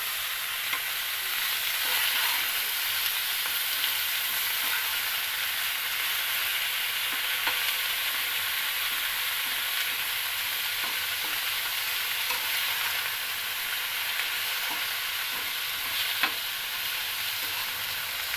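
Eggplant slices fry in mustard oil in a pan, a constant loud hiss of sizzling with occasional faint stirring knocks.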